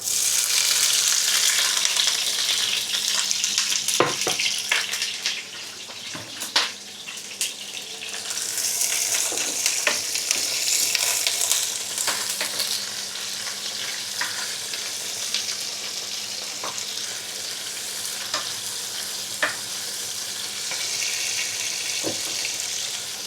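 Bell peppers sizzle and fry steadily in a hot pan, a continuous bright crackle with occasional sharper pops and stirring clatter, no voices.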